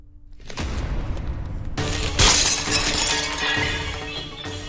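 Glass shatters loudly in a Hindi television drama scene: a first crash, then a bigger burst of breaking glass with shards scattering and tinkling for several seconds, and no voices.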